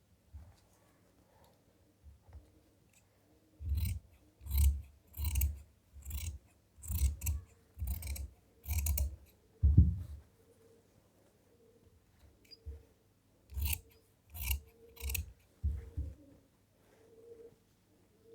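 Scissors cut fabric for the sleeve of a bridal lehenga blouse, with a close rhythmic run of crisp snips, a pause, then another shorter series of cuts in a quiet room.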